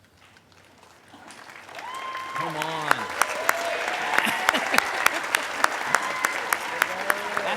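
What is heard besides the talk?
graduation audience applause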